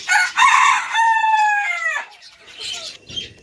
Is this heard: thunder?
no